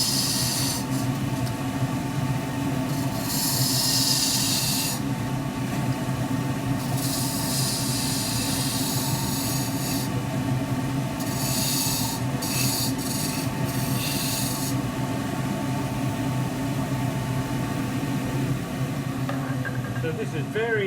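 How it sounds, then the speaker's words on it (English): A square end scraper cuts MDF on a wood lathe, giving a steady rasping, rubbing scrape over the constant hum of the spinning workpiece, with brighter bursts of cutting noise coming and going throughout. "And I need a square end scraper just to take that out."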